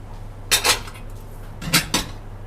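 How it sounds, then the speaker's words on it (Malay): Dishes and cutlery clatter in a home kitchen as a plate is taken out, with two short bursts of close clinking and scraping separated by a brief quiet gap. "Sekejap ya, saya ambil pinggan."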